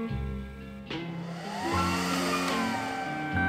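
An automatic filament splicer welds PET 3D-printer filament, giving a steady, quiet blower-like hum with low tonal drones that shift slightly in pitch, alone without talk.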